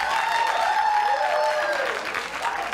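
A comedy show audience applauds and claps steadily for the whole stretch, a full, continuous crowd sound that holds at the same level until it eases a little at the very end.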